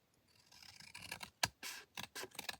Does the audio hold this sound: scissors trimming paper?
yes